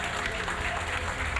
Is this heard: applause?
yes